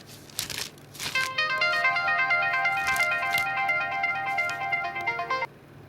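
A mobile phone rings with a bright electronic melody of repeating stepped notes for about four seconds, preceded by brief rustling and ending abruptly.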